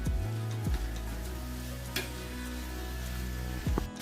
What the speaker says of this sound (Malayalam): ഇത് നമുക്ക് അടച്ചു വെച്ചൊന്ന് വേവിച്ചെടുക്കാം